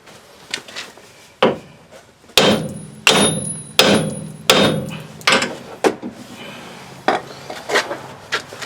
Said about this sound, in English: Then we're going to whack that with the big hammer.